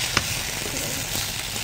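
Food sizzles steadily in a hot pan, a continuous crackling hiss with a faint clink near the start.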